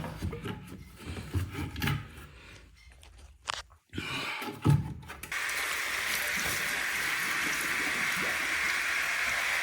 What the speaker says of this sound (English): We're gonna remove this and we're gonna pour water here.